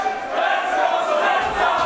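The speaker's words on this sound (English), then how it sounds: "No doubt whose side the crowd are on." A hostile wrestling crowd at a GWF Light Heavyweight World Cup show keeps up a steady, loud roar of shouting and cheering throughout, with no single voice standing out.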